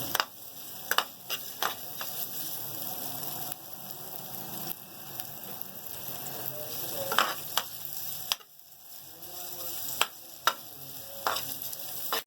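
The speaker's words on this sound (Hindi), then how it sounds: "ये मेरा घी गरम हो गया है" Ingredients frying in hot ghee, a steady close crackle and sizzle with intermittent sharp metallic taps and stirring scrapes spread across the stretch.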